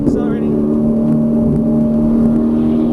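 Ferrari 458 Italia engine accelerating on track, a steady strong drone heard from inside the car, loud and continuous with a voice speaking over it.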